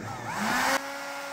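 A heat gun's blower motor, running off a portable power station, roars loudly with a rising whine, then abruptly drops to a steadier lower hum, close by.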